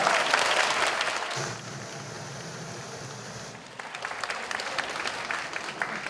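An audience at a high school debate final claps for the students, dense applause that dips to a quieter stretch midway and then swells again, steady and fairly close with no voices on top.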